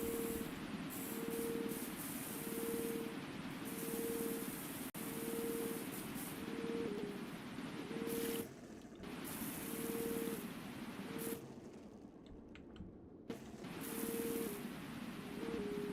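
Pressure washer spraying water in the Powerwash Simulator 2 game (Star Wars DLC): a loud, continuous spraying hiss that runs almost nonstop, with brief dropouts and a pulsing tone underneath.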